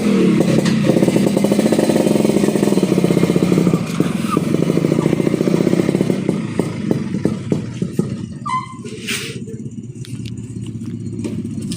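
A small Vespa scooter engine with a 177 cylinder kit idles and putters steadily at close range, with some clattering, then settles to a rougher, uneven idle; the engine has clutch trouble.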